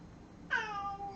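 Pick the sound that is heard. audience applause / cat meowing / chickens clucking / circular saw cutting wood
cat meowing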